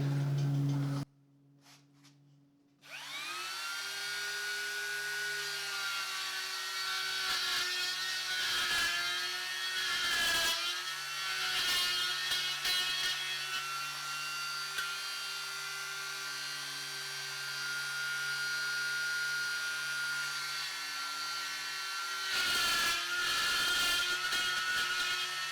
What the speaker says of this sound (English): Now we'll align to the other holes and we'll bore into the side.